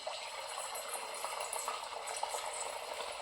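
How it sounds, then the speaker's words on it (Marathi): Sweet pumpkin puris fry in hot oil with a steady, soft bubbling sizzle, continuous and even throughout, heard close with no voices. "असं थोडंसं त्याला थापायचं थोडं आणि या मग असं तेलात तळायला टाकायचं"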